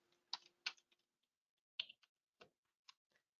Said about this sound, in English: My keyboard is running behind again.